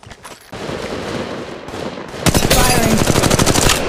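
Automatic weapon fire in Apex Legends Mobile, loud and close, with a rapid, sustained burst of shots that grows denser and heavier in its second half.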